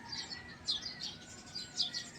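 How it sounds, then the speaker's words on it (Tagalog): Several bright bird chirps come in short bursts against a quiet rural Philippine backdrop, near and distinct, with brief pauses between calls and no talking. "Hindi kayo makakarinig ng mga huni ng ibon sa Maynila."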